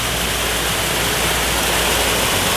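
A theme-park waterfall gives a steady, loud broadband rush of falling water that fills the whole stretch with no breaks and no voices.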